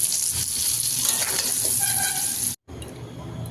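Pointed gourd (patol) frying in hot oil gives a dense, continuous sizzle close to the pan, with faint stirring scrapes, cut off abruptly near the end before a quieter hiss resumes.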